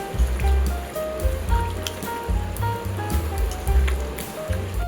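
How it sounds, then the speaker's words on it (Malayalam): Raw chicken being worked together with ginger garlic paste by hand for butter chicken, a close, continuous wet squelching and slapping with a steady uneven rhythm, heard alone without talk. "ഇത് ഞാൻ നല്ലപോലെ കൈ കൊണ്ടാണ് മിക്സ് ചെയ്യുന്നത്"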